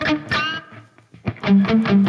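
Electric guitar with a tube breakup tone from the JCM800 amp model on a Sonicake Matribox 2, played as a few short, loud, gritty chord stabs with a brief gap between them.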